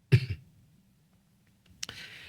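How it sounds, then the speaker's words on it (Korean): A man with a cough from a sleepless night clears his throat and coughs sharply, one burst at the start and another near the end, close and loud with quiet in between. "기침 좀 나오네."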